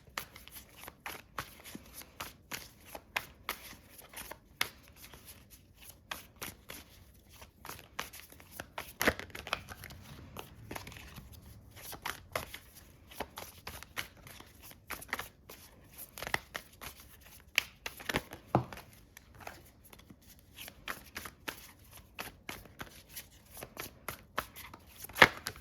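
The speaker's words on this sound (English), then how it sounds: "I'm just going to shuffle a few more times" Tarot cards are shuffled by hand in a quiet room, a long run of soft crisp riffling and slapping sounds in irregular bursts with brief pauses, close and fairly faint.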